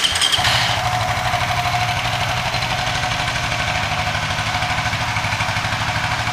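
A Suzuki GSX 150 with a bored-up 68 mm engine idles steadily after a cold start, a close, even mechanical thrum with a quick rough catch at the very start, then a constant pulsing rhythm and no voices.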